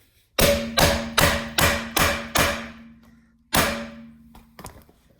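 A Dynomec removal tool is hammered onto an over-tightened locking wheel nut: six rapid, loud metallic blows in steady rhythm, a pause, then one more strike and a lighter tap, close up.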